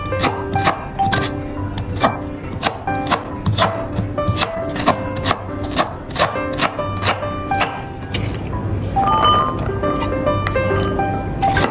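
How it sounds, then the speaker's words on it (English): A knife chops carrot into cubes on a board, a quick run of sharp, close knocks in an uneven rhythm that thins out near the end, with faint background music. "Cubes carrot."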